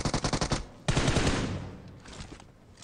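Rapid bursts of video game gunfire in a tactical shooter, a quick rattling volley followed by a louder sustained burst that fades into scattered echoing shots.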